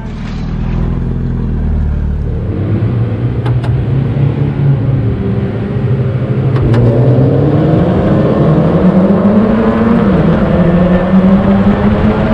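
A Mazda MX-5 race car engine revs and climbs through the gears at Donington Park, loud and close, with a steady mid-pitched drone that rises in pitch across the stretch, no talk over it.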